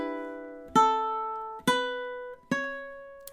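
Ukulele plays a short phrase of a theme tune: three clearly plucked chords ringing out one after another, close and clean with no talking.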